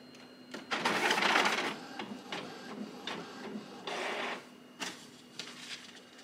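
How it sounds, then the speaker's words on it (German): A photocopier runs a copy job close by, with loud mechanical whirring bursts, clicks and rhythmic feed passes repeating over several seconds, and no one speaks. "Und darauf werde ich jetzt auf dich mein Kopf fotokopieren."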